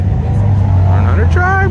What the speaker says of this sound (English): Mercedes AMG, the green one back here.